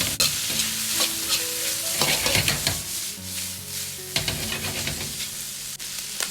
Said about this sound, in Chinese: 下入辣椒，这时候火稍微开大一点，快速翻炒均匀，炒出辣椒的香味